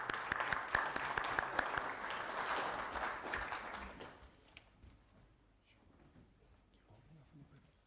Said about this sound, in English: Please, let's welcome with a clap.